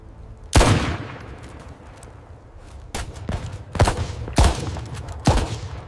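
Bursts of gunfire in a desert battle on the North Africa front, several sharp loud volleys spaced a second or so apart, with rattling machine-gun fire returning shots between them.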